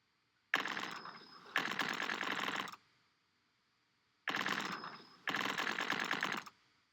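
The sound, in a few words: burst fire gunshots in a video game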